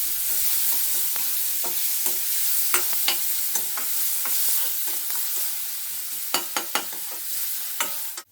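Two chopped onions sizzle steadily in a hot pan while being stirred, with sharp clinks and scrapes of a spoon against the metal cutting through the continuous frying hiss.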